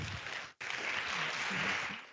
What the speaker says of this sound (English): Please round of applause for Hoda Afshar